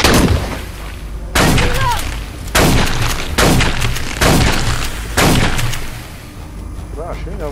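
Loud explosions and gunfire in the shooter game Aliens Colonial Marines: about six heavy booming blasts, evenly spaced, each ringing out before the next, close and dominant.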